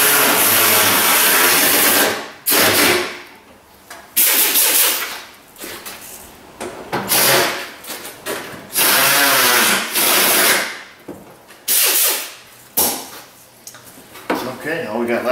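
Power tool driving bolts into the inner fender of a Chrysler Pacifica, loud repeated bursts of whirring and rattling separated by short pauses, close up in a workshop setting.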